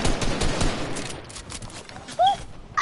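Rapid bursts of gunfire in a multiplayer shooter video game, dense crackling shots in the first second that then thin out, with excited players shouting over the action.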